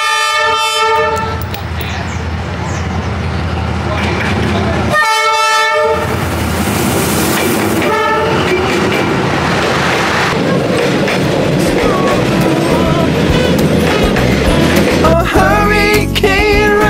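A train rumbles past very close in Vietnam, loud and continuous, with horn blasts sounding near the start and again midway, wheels clattering throughout.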